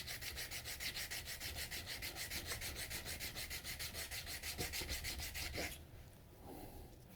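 A stainless steel tang on a Moritaka gyuto knife, where the carbon steel meets the stainless at a weld, is sanded with steady rapid back-and-forth strokes, a close rhythmic rasp that stops abruptly near the end, leaving quieter scraping.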